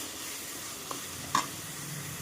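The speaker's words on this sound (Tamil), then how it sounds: "வெங்காயம் நல்லா வதங்கட்டும்." Onions sautéing in a pan with salt and curry leaves, a steady close sizzle with a few soft scraping stirs, no talking.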